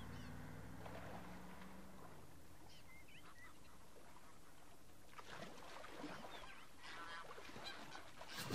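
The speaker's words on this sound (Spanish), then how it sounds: "Se siente el pato." Ducks quack and honk in The Last of Us Part II, several nasal calls rising over a steady wash of water and ambient noise, moderately distant and without speech.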